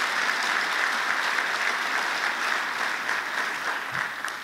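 Sustained applause from a sizable crowd at a Catholic men's conference, steady and dense throughout, with no voices rising above the clapping.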